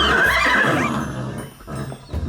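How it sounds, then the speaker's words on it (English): A horse neighs loudly and close, a rising whinny that trails off into softer snorts and breathy rumbles over a couple of seconds. "That's just a horse neighing."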